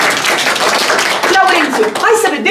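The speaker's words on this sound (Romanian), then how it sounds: "Așa, aplauze pentru Laurențiu." An audience at a book launch in Slobozia applauds a young man as he stands, the clapping mixed with voices and chatter that rise over it toward the end.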